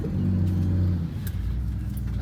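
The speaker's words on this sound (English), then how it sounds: "Nice hum of a diesel engine." A Detroit Diesel engine in a coach bus hums steadily while the bus drives along. The drone is low and continuous and eases off slightly partway through. No voices are heard.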